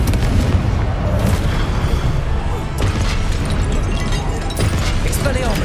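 Confringo fire-blast spell exploding in the Hogwarts Legacy video game, a dense run of booming blasts and crashes that fills the whole stretch, loud and continuous with a few sharper hits layered in.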